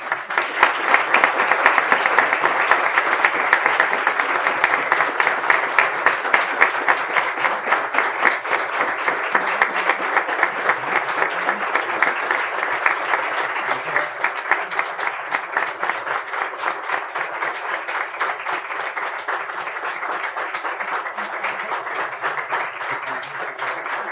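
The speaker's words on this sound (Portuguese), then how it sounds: "Aplausos à homenageada professora emérita Rita Laura Segato" A large audience at a university ceremony honoring professor emerita Rita Segato claps for a long stretch, a dense, loud and even wash of many hands that holds steady, easing slightly toward the end.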